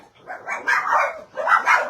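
Several house dogs, four in all, let out short, sharp barks and yips in quick clustered bursts, close and loud with no talking.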